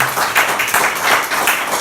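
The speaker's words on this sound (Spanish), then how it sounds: "Denle un aplauso a Cristo" A church congregation claps together in a short, loud burst of applause, steady and close throughout.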